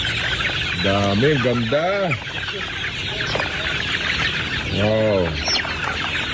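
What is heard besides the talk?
gamefowl roosters clucking on a farm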